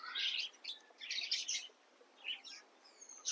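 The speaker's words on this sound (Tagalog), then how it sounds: "Yung mga Parrot. birds. Lovebirds." Lovebirds and parrots at a wildlife spot in Albay chirping in bright, overlapping bursts, close and lively with short pauses between calls.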